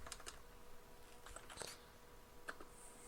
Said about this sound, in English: We'll be typing in shutdown